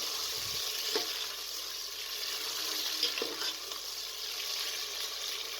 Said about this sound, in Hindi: गोश्त को इतना भूनना है कि ये पिंक से वाइट हो जाए।